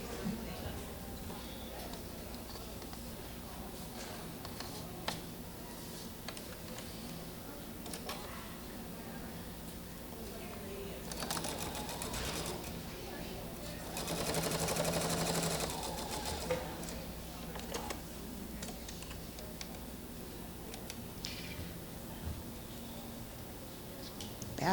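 A sewing machine runs in short bursts of rapid stitching, with a louder, faster run partway through and a person talking quietly over it.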